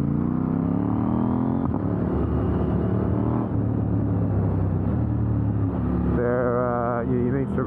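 KTM 890 Duke R motorcycle riding on a road with sticky track tyres, its engine droning steadily and loudly throughout, rising in pitch near the end as it accelerates.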